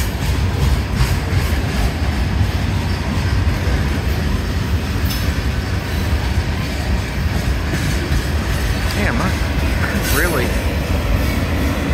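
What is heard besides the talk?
southbound CSX mixed manifest freight train passing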